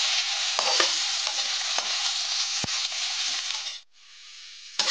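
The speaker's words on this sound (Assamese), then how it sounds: "পিঁয়াজখিনি অকণ ভালকৈ ভাজি ল'ম" Chopped onions frying in a pan, a loud continuous sizzle with scraping stir strokes and small pops, cutting off abruptly near the end before a quieter hiss resumes.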